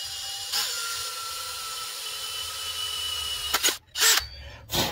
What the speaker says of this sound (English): I'm just gonna drill a little pilot hole first with the small drill bit.